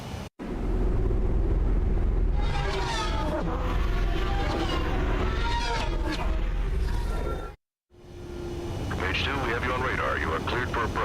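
An aircraft in the video game Ace Combat 7 flies in for landing, its engine roar droning steadily under radio voices, cutting out briefly before resuming with more chatter.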